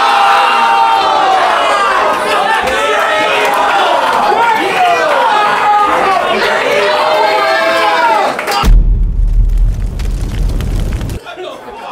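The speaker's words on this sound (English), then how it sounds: "But I need the crowd to quiet down now" A rap battle crowd chatters and murmurs loudly, the many overlapping voices filling most of the stretch before a brief, sharp burst of louder noise near the end.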